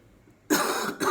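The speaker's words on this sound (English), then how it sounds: "My cough, it is normal" After a quiet moment, a single harsh cough bursts out close up, followed by a brief second hack.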